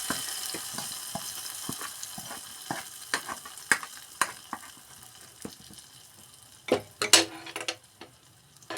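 Onions fry in a pan for a chickpea curry, giving a soft, continuous sizzle with scattered clicks and scrapes of stirring and a louder clatter near the end, heard close and alone.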